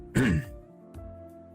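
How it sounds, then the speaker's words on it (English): One short, gravelly throat clearing close to the listener, followed by a quieter catch of breath against a low steady hum. "Sorry, I'm actually clearing my throat"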